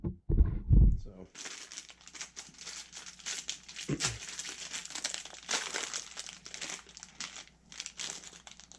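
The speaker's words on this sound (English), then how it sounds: "We're just taking stuff out of the packaging." Engine rebuild parts for a Polaris 700 twin unwrapped from their packaging, with close crinkling and tearing of plastic and paper running throughout after a heavy thump at the start. A voice speaks briefly.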